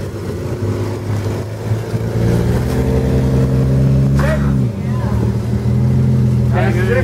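A Jeep's engine drones and revs steadily while it crawls slowly over a rock on an off-road trail, the pitch shifting as the throttle changes, with a spotter's voice calling out over the motor.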